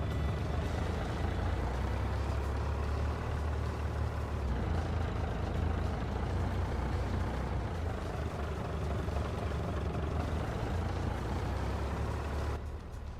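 Ford pickup truck engine in Farming Simulator 25 idling and rumbling with a steady low drone throughout, loud and continuous with slight shifts in tone, no talk over it.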